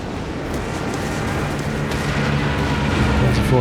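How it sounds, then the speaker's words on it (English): Heavy artillery fire in a Company of Heroes 3 three-versus-three battle: a dense, continuous roar of shelling and rumbling booms under a commentator's voice. "There's some major artillery coming in, completely shutting down the Axis capping"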